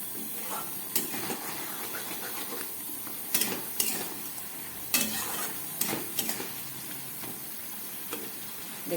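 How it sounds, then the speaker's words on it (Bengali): Taro stolons cooking over low gas in a pan are stirred with a utensil, giving scattered scraping clicks over a faint steady simmer, fairly quiet and close, with no talking. "একটু নেড়ে দেবো।"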